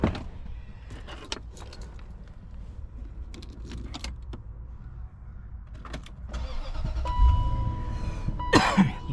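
Engine of a 2003 Land Rover Range Rover L322 with 216,026 miles, pulled from a junkyard, being started: keys jangle and interior clicks, then a starter crank and engine catch toward the end, close and fairly loud.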